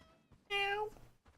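A single drawn-out meow from Ferdinand the cat in the game Bellwright, clear and close, with faint quiet sounds just before and after.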